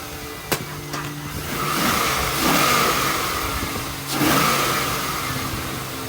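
A project car in a garage cranks and fires on its first start after repairs, then revs in two long swelling pulls with sharp clicks before them, loud and close against steady engine noise.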